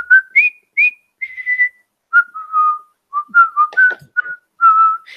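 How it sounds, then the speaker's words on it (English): Soldiers in The Bridge on the River Kwai whistle the Colonel Bogey March, a clear melodic whistle in short, bouncy phrases with brief gaps, loud and close with no talk. "the British soldiers marching in, whistling the melody. I believe is called the Colonel Bogey March"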